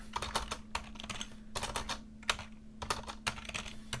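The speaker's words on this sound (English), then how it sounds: "This typing is not my strength" Rapid, uneven typing on a computer keyboard, close up, with clicky keystrokes in short bursts and brief pauses, over a faint steady hum.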